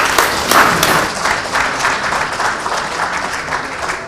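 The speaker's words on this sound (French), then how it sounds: "Applaudissez." Applause from a party convention crowd at a political rally, steady and dense for about four seconds, moderately loud with many hands clapping together and no one speaking over it.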